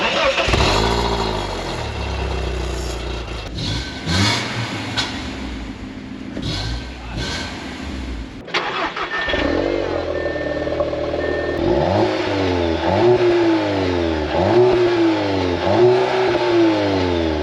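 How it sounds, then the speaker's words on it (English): An Audi TT engine starts up and revs repeatedly, rising and falling in close, loud bursts over a steady running note, with a brief pause before a rhythmic series of revs. "I'll play some clips of the TT starting up and revving as well"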